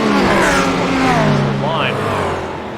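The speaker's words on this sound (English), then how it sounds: "And they are off. Quickly coming into the slipstream, they're 3 wide" GT3 race cars launching at the start of an iRacing video game race at Lime Rock Park, engines droning and rising in pitch as the pack pulls away, with a commentator talking over them.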